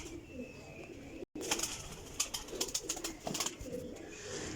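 Old-breed chapra pigeons cooing nearby, with soft repeated coos over a steady background hum and a brief gap partway through.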